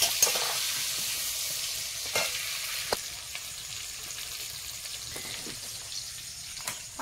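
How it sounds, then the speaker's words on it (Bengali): Potatoes frying in hot oil with a little turmeric in a home kitchen, a steady soft sizzle running throughout with a few stirring scrapes and spatters, close and alone with no talk. "তুমি ওই আলুটা ভাজবে, তুমি আলু ভাজলে বেশ লাগে ভালো তরকারিটা"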